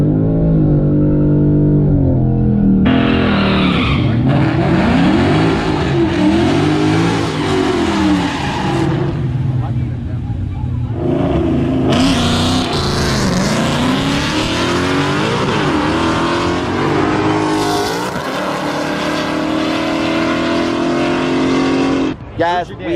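Ford Mustangs at a car meet rev, accelerate and squeal their tires in a loud, continuous stretch of engine roar, with people talking and shouting over it.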